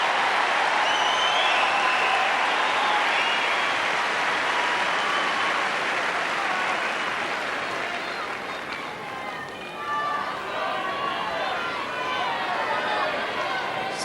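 At a 1999 Wimbledon quarter-final, Steffi Graf against Venus Williams, a tennis crowd applauds in a dense, sustained wash of clapping that eases slightly midway and then swells again, with faint talk beneath it.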